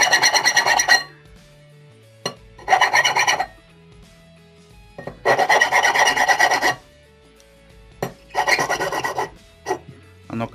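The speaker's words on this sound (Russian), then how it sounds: "берем бархатный напильник" A velvet file rasps across a wooden prayer-bead link from black wood, in four or five long close strokes separated by pauses, with a few quick single scrapes between them.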